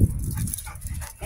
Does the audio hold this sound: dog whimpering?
yes